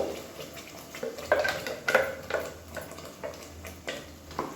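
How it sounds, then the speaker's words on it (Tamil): Ground paste being stirred into softened tomato masala in a pan for kurma, with a few distinct scraping and clinking strokes of a spoon against the metal amid a soft sizzle. "சேர்த்துட்டு நல்லா கலந்து விட்டுக்கலாம்."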